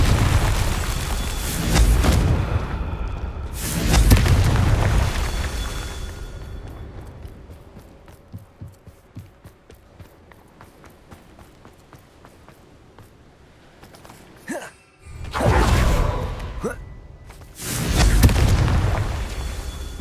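A Confringo fire-blast spell explodes in Hogwarts Legacy: heavy booming blasts open the clip, a quieter crackling stretch follows, and more loud explosive bursts land near the end.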